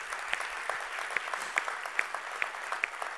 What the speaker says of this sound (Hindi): तालियां राउंड टेबल इंडिया के लिए जरूर बजाएं।